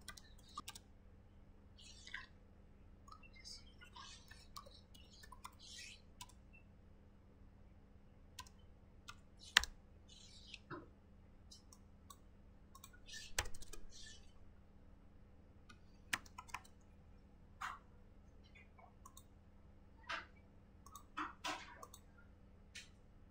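Computer keyboard typing commands during Cisco configuration, scattered soft key clicks in short bursts over a quiet room hum, with occasional louder taps.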